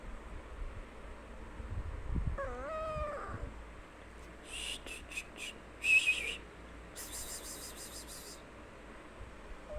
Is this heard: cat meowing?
yes